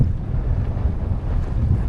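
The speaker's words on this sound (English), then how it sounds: "The trade wind is really blowing" A strong trade wind buffets a sailboat riding at anchor off Tres Puntas, Guatemala, making a continuous loud low roar and microphone rumble with no voices.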